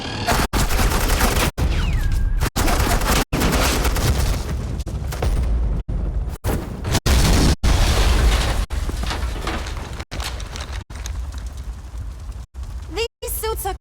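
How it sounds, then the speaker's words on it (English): Heavy suppressing gunfire in a Batman video game, sustained automatic bursts rattling continuously for most of the stretch, loud and close, with sharp gaps between volleys and a voice talking underneath. "Suppressing fire."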